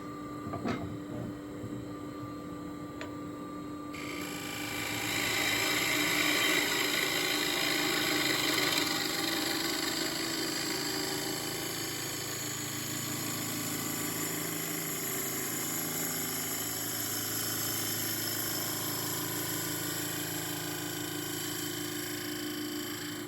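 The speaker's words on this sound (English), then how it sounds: "So I'm going to come in with a bowl gouge," A bowl gouge makes a push cut across a figured wooden plate spinning on a lathe, giving a steady, quiet scraping hiss over the low hum of the machine, with a few faint clicks at the start.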